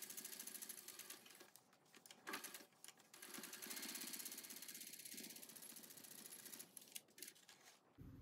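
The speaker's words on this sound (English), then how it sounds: "I'm going to go top stitch these down to both sides of my front jacket" A sewing machine top stitches chest pockets onto the front pieces of a shirt jacket, running in fast whirring bursts separated by short pauses, close and fairly quiet, with no talking.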